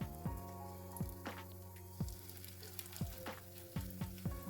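Chicken cutlets sizzle and crackle steadily in a hot pan, with soft periodic thumps and faint clinks of a utensil against the pan.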